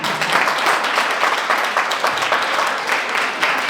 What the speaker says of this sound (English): Clap for our team.